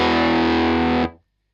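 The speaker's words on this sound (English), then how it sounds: "So we start with our nice fluffy fuzz sound" An electric guitar through a germanium Fuzz Face fuzz pedal plays a thick, saturated sustained chord that rings evenly for about a second and then stops sharply, with no talking.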